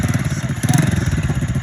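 A pit bike engine runs right after starting, a close, loud, rapid chugging putter with a brief rev in the middle.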